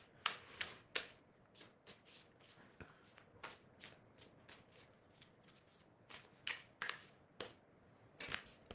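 Tarot cards being shuffled by hand, a series of soft riffling bursts and papery snaps in an irregular rhythm, close and fairly quiet, with no talking.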